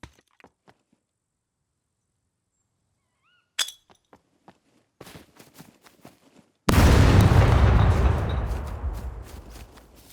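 A grenade detonates in the survival video game Scum: a few scattered clicks and clinks, then a sudden loud, close blast that roars broadband and rumbles low before slowly decaying over several seconds.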